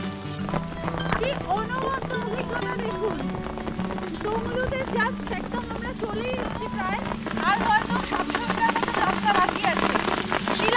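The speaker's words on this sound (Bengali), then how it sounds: "কি হারে শিলা পড়ছে দেখুন, পুরো বরফ পড়ার মতো, স্নোফলের মতো শিলাবৃষ্টি হচ্ছে" Hail pelts down on a mountain trail beside rhododendrons on the Sandakphu trek, a dense steady patter over the whole stretch, with a voice talking over it.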